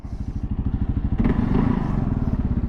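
A 2023 Kawasaki KLR650 motorcycle with its 652cc single-cylinder engine chugs up close in a loud, rapid, throbbing pulse, briefly swelling as the throttle opens before settling back to a steady rumble.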